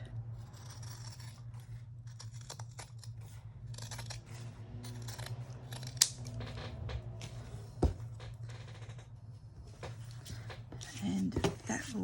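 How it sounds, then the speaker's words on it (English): Scissors snip and slide through paper being trimmed for a junk journal, soft close cuts over a steady low hum with faint scraping handling noises. "Trim that."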